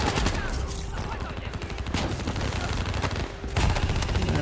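Rapid automatic fire from the ICR-1 rifle in the video game Black Ops 3, loud continuous bursts with brief gaps, dense and close in the game mix.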